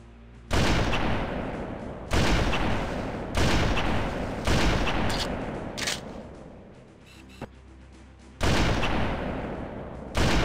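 Gunfire in the Halo CMT SPv2 game: loud, close bursts of automatic weapon fire, about six sustained volleys separated by short pauses, with no talking.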